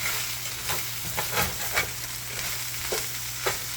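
Pork fried rice crisps and sizzles in a hot pan, a steady close frying hiss broken by a few soft stirring scrapes, with no talking.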